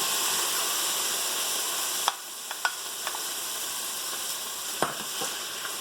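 Tomato and garlic sizzle steadily in a hot pan, a continuous hiss that drops slightly after a couple of seconds, broken by a few sharp clinks and scrapes of a utensil against the pan.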